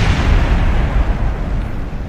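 A rocket explodes in Kerbal Space Program, producing a loud, close, continuous rumbling blast with deep low-end roar that fades slightly over about two seconds.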